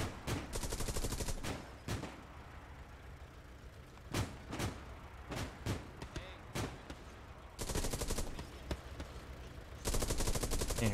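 Machine gun bursts in the World War II shooter Hell Let Loose, repeated rapid rattling volleys of varying length, loud and close, with sparse single shots and brief radio talk between them.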